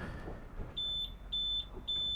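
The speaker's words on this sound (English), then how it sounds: "Waiting for a beep." A steady high electronic tone sounds in three evenly spaced beeps over a low, rumbling background.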